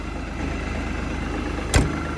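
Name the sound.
LS tractor engine idling after start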